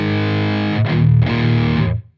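Electric guitar run through a Marshall DSL pedal into a clean amp, producing two loud overdriven chords that sustain and then fade out quickly.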